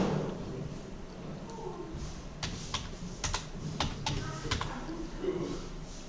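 Someone types a verification code on a computer keyboard, a series of distinct key clicks in an irregular rhythm over a quiet room background, close and clear.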